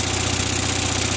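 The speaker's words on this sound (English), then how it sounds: "I heard the engine kick up a little bit." An Onan 5CCK generator engine hums steadily with a rhythmic low throb, a small motor running and picking up slightly, with no voices.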